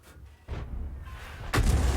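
A 105 leFH18B2 howitzer fires HEAT rounds in a video game: two heavy, booming shots about a second apart, each hitting hard with a deep, rumbling low end.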